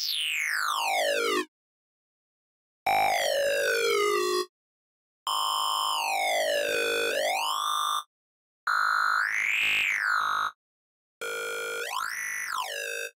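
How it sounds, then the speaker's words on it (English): Synthesizer tones from the Projektor wavetable pack in Vital are heard as five separate phrases with short silences between them. Each one sweeps up and down in pitch, with a resonant, metallic flanger character somewhat like a siren. "You can hear the characteristical flanger resonance kind of feeling."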